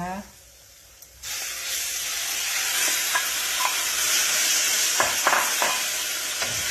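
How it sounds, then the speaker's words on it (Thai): Pieces of chicken sizzle loudly and steadily in a hot pan, with occasional scraping and clinking as they are stirred. "ผัดไก่ให้สุกก่อนนะคะ"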